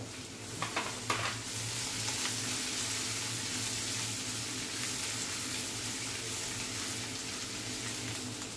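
Crushed ginger and asafoetida frying in butter, a soft steady sizzle with a couple of brief utensil clinks near the start.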